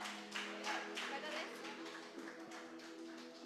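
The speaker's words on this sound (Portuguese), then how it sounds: "as palmas louvam ao Senhor" A church congregation claps in an even rhythm during an evangelical service, faint and distant over a low steady hum, with beats evenly spaced across the stretch.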